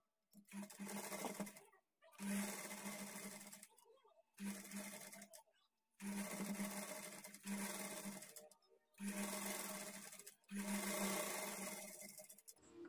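A sewing machine stitches over a half-inch seam on blouse lining in six close, fairly loud runs of one to two seconds, separated by brief pauses.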